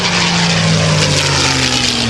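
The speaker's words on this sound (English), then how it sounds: "Listen to the sound of this Rolls-Royce Merlin engine." A P-51 Mustang with a Rolls-Royce Merlin engine flies past at an airshow, giving a loud, steady, close propeller-engine roar with a smooth droning tone and no talk.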